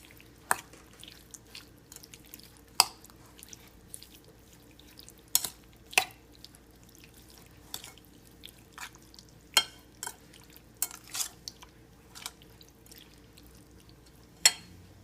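Cherries are stirred with cornstarch in a bowl, with soft wet clicks and squelches coming at irregular intervals over a quiet background and no talk.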